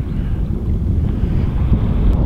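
Offshore wind buffets a microphone at sea during a fishing trip from a boat, a loud, steady low rumble of gusts with no voices.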